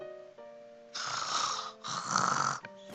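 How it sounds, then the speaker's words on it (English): Snoring sound effect from the game Taisho Alice: two long, loud rasping snores in a row, each a drawn-out noisy breath, over a soft background music tone. "I'll do snoring then"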